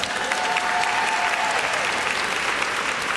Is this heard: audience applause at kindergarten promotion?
yes